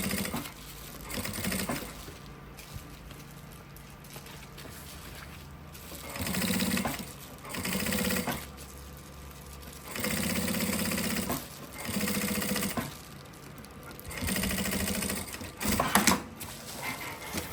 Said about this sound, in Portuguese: a gente puxa o forro todo pro fundo, pra dentro da máquina, e vamos passar uma costura somente em cima do nylon